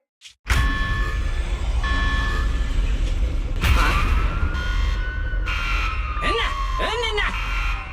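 A security alarm blares in a video game, a loud sustained electronic siren wailing and sweeping in pitch for several seconds, with warbling tones toward the end and voices talking over it.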